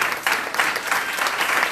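A church congregation gives strong applause to the Lord, loud, dense clapping from many hands with individual claps audible in an even stream.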